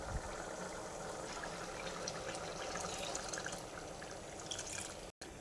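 Coconut milk pours quietly into a Kerala chickpea curry (kadala kurry), a soft steady liquid trickle and splash heard close and alone, with a brief cut near the end.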